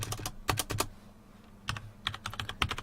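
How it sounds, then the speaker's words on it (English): Someone types a username on a computer keyboard, close crisp key clicks in two quick bursts separated by a short pause. "so I'll type my username"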